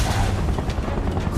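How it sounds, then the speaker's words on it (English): Gunfire in the video game Final Fantasy VII Remake, a dense, sustained barrage of booming shots with no break across the whole stretch, loud and close. "Open fire! Shoot to kill!"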